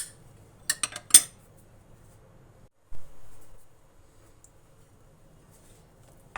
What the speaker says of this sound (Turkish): Şöyle bir karıştırdıktan sonra hemen yoğurmaya geçelim.